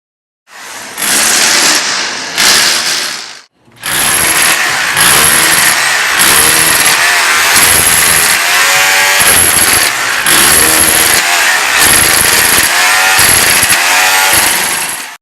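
A power tool chips mortar off floor tiles, loud and close, running in a short burst, a brief pause, then a long continuous rattling grind with rhythmic pulsing as it works the surface.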